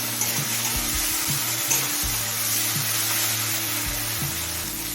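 Tomatoes sauté in a pan for Dhaba-style egg chicken tadka, giving a continuous loud sizzle and frying hiss up close, with clinks and scraping of stirring against the pan.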